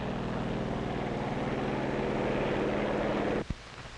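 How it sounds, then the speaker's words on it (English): Steady droning engine roar of propeller control planes taking off from an aircraft carrier, loud and continuous, cutting off abruptly near the end with a brief thump. "Also taking off from the carrier are control planes that will guide the radio-controlled drone boats."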